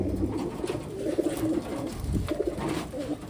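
Pigeons sold as Taiwan birds coo repeatedly in low, throaty bursts close by, with several overlapping calls and soft rustling from the birds.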